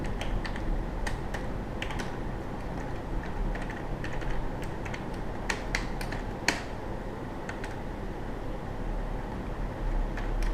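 Steady tapping on a computer keyboard while writing HTML, the scattered clicks sitting over a constant low background hum, with no one speaking.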